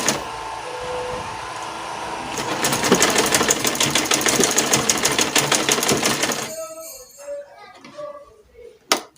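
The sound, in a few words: sewing machine stitching elastic onto a skirt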